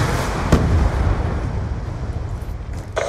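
Airstrike explosions in Call of Duty Black Ops 2 rumble in a heavy low boom, with a sharp blast at the start and another at the end, loud and alone.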